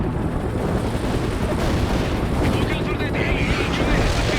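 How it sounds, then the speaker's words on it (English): Artillery fire in the video game World in Conflict, a continuous rumbling barrage of booms and blasts forming a dense, loud roar with a brief radio-style voice line over it. "Firing solution ready. Artillery lined up. Firing."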